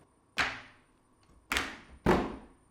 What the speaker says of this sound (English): This is played on the rods, the metal rods on the body.